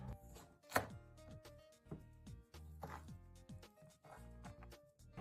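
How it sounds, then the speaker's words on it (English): A knife chops parsley finely on a cutting board in quick, crisp, evenly spaced strikes, close and alone, with faint background hum. "Chop the parsley finely as well"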